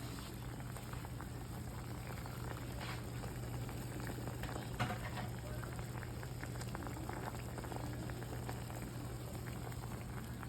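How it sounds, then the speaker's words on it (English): A steady, dense bubbling of liquid at a rolling boil, continuous and close, with faint crackles over an even low hum. "take it off the stove because it's been boiling for a while"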